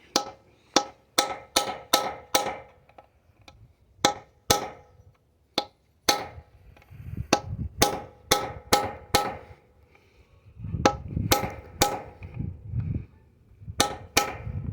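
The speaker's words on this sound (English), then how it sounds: "you've got to hit them pretty good and hard." A hammer drives a chisel against a 4L60E Mortorq bolt in a series of sharp, loud, irregular metallic blows, some in quick bursts and others spaced apart, with a low rumble between strikes.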